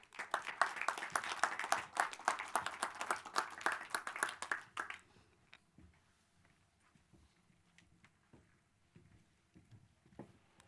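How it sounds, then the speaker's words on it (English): Conference audience gives a warm round of applause, clapping strong for about five seconds, then stopping abruptly and leaving a quiet room with scattered faint clicks. "please join me in giving them a warm round of applause"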